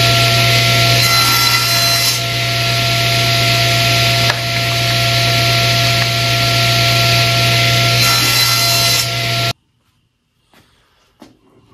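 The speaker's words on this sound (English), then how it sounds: "You get a nice straight cut there." A saw cuts small wood pieces held against a stop block for a piano-keyboard cutting board. A loud, steady whining cut runs for about nine seconds, then stops abruptly, leaving near silence with a few faint knocks.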